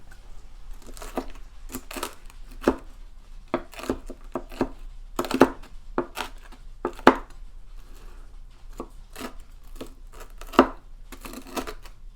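A knife chops cooked bacon on a cutting board in quick, uneven taps, some sharper than others, close and fairly quiet, with a low hum behind.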